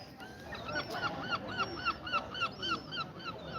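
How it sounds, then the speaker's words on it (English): Seabirds calling repeatedly at Gorleston-on-Sea, a steady rhythmic series of honking, gull-like cries about every quarter second over a soft wind-and-surf background, moderately close and with no talk. "Listen to those seagulls."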